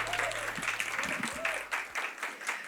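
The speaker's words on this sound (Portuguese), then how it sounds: "Eu peço uma salva de palmas, que nós temos plateia também, para as nossas convidadas atrizes" A festival audience applauds guest actresses with steady clapping that lasts the whole stretch, and a voice speaks faintly underneath.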